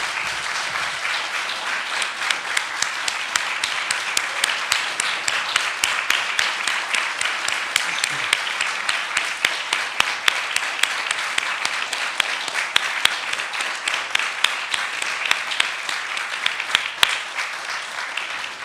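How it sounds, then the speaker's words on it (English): Sustained, evenly dense applause from a seated audience at a press club reception, honoring standing participants and holding steady for nearly twenty seconds without speech. "let's give them a round of applause"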